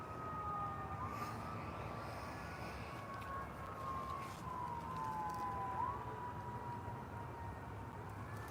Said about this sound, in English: Shout out to the police cars in the distance.